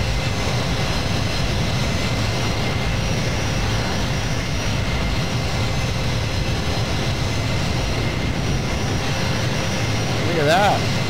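A C-17 jet roars through a takeoff in Microsoft Flight Simulator, a steady, loud broadband engine rumble that holds constant throughout, with a brief rising whine near the end.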